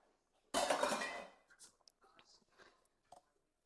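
A rubber spatula scrapes cinnamon roll dough off a stand mixer's dough hook: one loud close scrape, then a scatter of small taps, clinks and soft scrapes.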